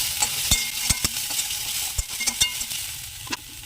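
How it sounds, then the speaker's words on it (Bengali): Ginger lightly frying in a pan, a steady soft sizzle with scattered clicks and taps of a spoon stirring through it, close and moderate in level, no voices. "একটু আদা, আদাটা হালকা ভেজে নেবো"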